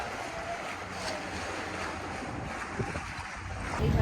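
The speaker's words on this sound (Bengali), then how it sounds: "অবশেষে আমাদের স্পিড বোট চলে এসেছে" A speedboat approaches over the open sea near the Maldives. Its engine is a faint, distant hum under steady wind and wave wash, and it grows slightly louder toward the end.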